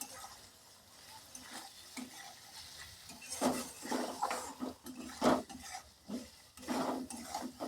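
A potato and soya chunk curry with turmeric is stirred in a pan, a spoon scraping and clinking in irregular bursts over a soft sizzle, close but fairly quiet.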